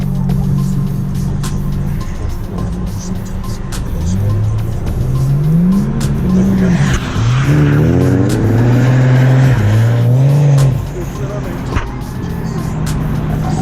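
Nissan 370Z NISMO with a Tomei exhaust drifting, its loud engine rising and falling through revs with tire squeal, close by, while people talk over it.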